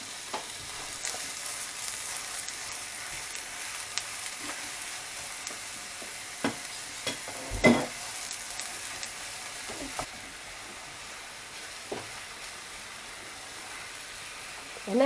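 Minced chicken breast frying in a pan, a steady close sizzle with occasional stirring clicks and scrapes, one louder knock midway.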